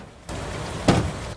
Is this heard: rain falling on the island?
yes